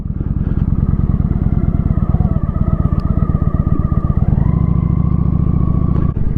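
A motorcycle ridden up close, its engine chugging in a steady low pulsing rhythm that shifts to a smoother, higher drone partway through, loud and continuous with no voices.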